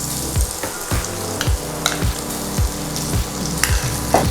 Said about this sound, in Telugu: ఇప్పుడు అల్లం వెల్లుల్లి పేస్ట్ పచ్చివాసన పోయేంత వరకు వేయించుకోవాలి.